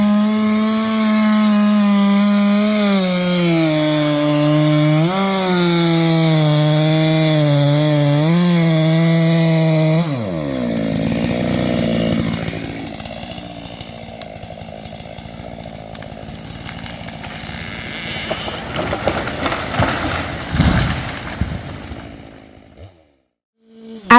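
A chainsaw runs loud and steady while cutting into a felled broadleaved tree, its pitch dropping as it bogs into the wood, then giving way to rougher sawing and rubbing noises.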